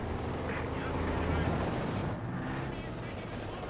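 A Company of Heroes 2 battle with a KV-2 tank engaging rattles with dense machine gun fire and rumbling artillery bombardment, a continuous loud barrage of shots and blasts.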